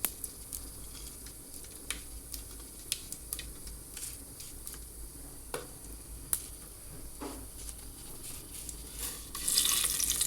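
Cumin and whole spices sizzle in hot oil for an unbiryani-style egg biryani, a steady close crackling hiss with scattered pops and a stronger burst of sizzle near the end.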